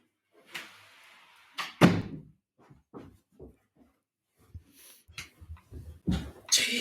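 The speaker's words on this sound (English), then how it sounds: "Can you see the door? I'm gonna close it." A door is handled and closed indoors, with a series of scattered knocks, thumps and bumps, including one heavier thud early and a louder burst at the end.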